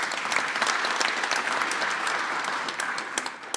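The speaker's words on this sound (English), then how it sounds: "Please give me a round of applause for Dermot." A tech festival audience applauds a blockchain panellist with a steady wash of dense clapping, close and even throughout, tapering slightly at the end.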